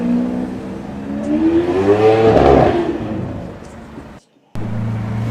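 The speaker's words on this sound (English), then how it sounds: "That's obviously it's a Lamborghini Aventador SV, and they sound pretty insane." A Lamborghini Aventador SV engine revs hard, swelling to a loud, rising howl before easing off. It cuts out abruptly near the end, then a lower engine hum resumes.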